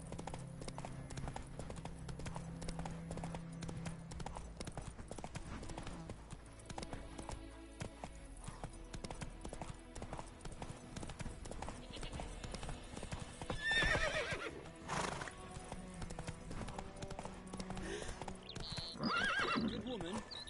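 Geralt's horse Roach gallops in The Witcher 3 with a steady, loud drumming of hooves throughout, a whinny breaking through, and game sounds layered underneath.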